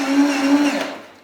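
Motorized Paw Patrol toy vehicle driving by itself, a steady whirring electric-motor buzz up close, holding for about a second before trailing off.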